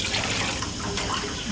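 Water pours and trickles continuously at close range while mixing berries, water and honey in a kitchen, making a steady splashing, gurgling wash with no talking.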